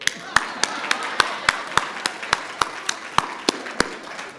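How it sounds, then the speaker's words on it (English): A single person claps alone at a Teacher of the Year award ceremony, about fourteen sharp, evenly spaced hand claps ringing out close and clear in a quiet room. "I'm gonna clap for myself right quickly."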